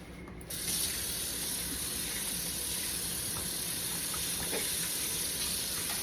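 Goulash cooking in a pot on a home stove, giving a steady close hiss and sizzle with soft bubbling throughout, no voices.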